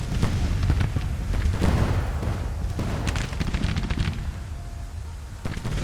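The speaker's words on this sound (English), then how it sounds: "Let the artillery do its work." Dense, continuous battlefield din of massed musket volleys and booming artillery from a Civil War engagement in Grand Tactician: The Civil War, a steady rolling roar of overlapping shots with no talk.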